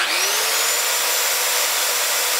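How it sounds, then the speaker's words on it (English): A power saw runs continuously, loud and close, its high whine holding steady as it draws load from an EG4 12K off-grid solar inverter. "I'm gonna run our power saw right now."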